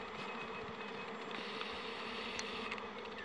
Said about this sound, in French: C'est un autre essaim qui vient de sortir.